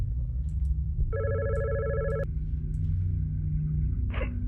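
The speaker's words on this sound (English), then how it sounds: "As soon as I get back, the phone starts ringing." A telephone rings inside the video game God's Basement, a steady electronic trilling burst lasting about a second, then fading into a low droning ambience, with a faint click and brief clatter near the end.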